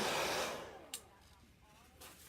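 A hair dryer blows on chalk paint applied to a handmade card, a steady close rushing whoosh that starts loud, then eases to a softer continuous hum with a brief click near the middle.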